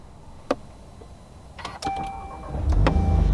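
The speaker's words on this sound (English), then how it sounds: "you put your foot on the brake and down on the clutch pedal, and then you're gonna press the start stop button right there" 2024 VW Golf R with six-speed manual starting up on a platform: a few clicks, then a starter whir and the engine catching into a rising, steady idle rumble, fairly close.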